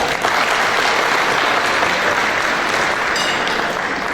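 Audience applause at a memorandum signing ceremony for Azturk Holding, loud, dense and sustained clapping from a large crowd lasting throughout.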